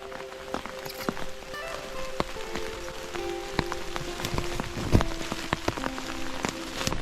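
Rain falls steadily on a backpacking trail in Cumberland Gap, with dense pattering drops hitting rocks and a raincoat close by, sharp individual drips and occasional tapping throughout.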